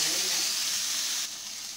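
Chicken hot dog cooking in a pan gives off a steady, loud, close sizzle that holds evenly, then drops slightly in level toward the end.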